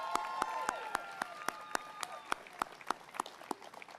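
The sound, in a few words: audience applause for Cindy Stewart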